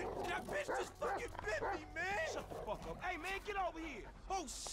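A dog in the GTA 5 video game barks and yips repeatedly in quick bursts while running, loud and close, with someone talking over the barks.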